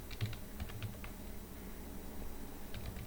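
Computer keyboard typing as an email address is entered, a quick run of soft, close keystrokes followed by scattered clicks, quiet and unaccompanied by talk.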